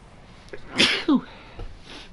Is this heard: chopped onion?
no